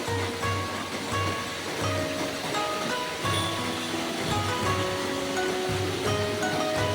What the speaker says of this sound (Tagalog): Ang gandang tignan ng man-made waterfalls nila.